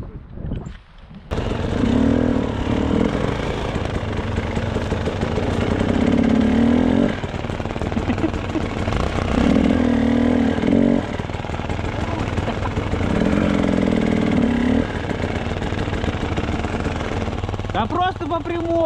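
A Minsk X250 motorcycle engine runs continuously while riding, a loud buzzing drone with rhythmic surges in pitch as it revs and eases off, with people talking over it throughout.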